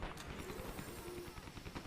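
Rapid gunfire in the online shooter Dirty Bomb rattles in dense, continuous bursts, fairly quiet and slightly distant.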